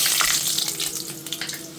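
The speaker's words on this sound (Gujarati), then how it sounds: "હવે તો એમાં મેથીનો અને લસણનો વઘાર કરી નાખીએ" Fenugreek and garlic tempered in hot oil, a steady close sizzle with bright crackling that holds for the whole moment, no voices.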